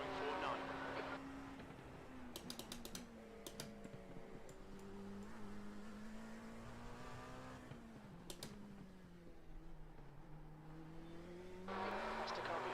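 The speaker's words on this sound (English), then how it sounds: "That's the car behind. They're racing this for position." Racing car engines in iRacing whine steadily as a rival car runs close behind, fighting for position on track, with the engine pitch rising and falling through gear changes.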